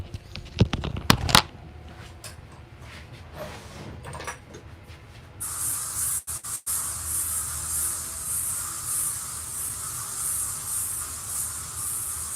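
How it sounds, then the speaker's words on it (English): A can of insect spray is aimed at a mosquito. Clattering handling knocks come first, then a loud, steady hiss of spraying runs continuously for several seconds, close by with no talk. "Let me get some spray here because it's a damn mosquito."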